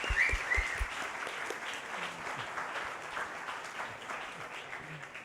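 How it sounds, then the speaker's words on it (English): Audience at a London DevOps meetup applauding steadily, with a few whoops and cheers near the start, the clapping dense and sustained throughout. "So one big cheer for Sam Galvin."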